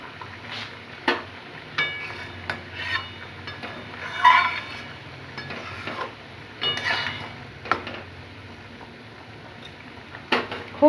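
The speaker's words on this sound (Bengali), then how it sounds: "আর একটু ফুটুক।" Tomato and tamarind chutney bubbles in a pan, small irregular pops and soft sizzling spread through the whole stretch, with occasional sharper ticks from the thickening sauce, close and fairly quiet.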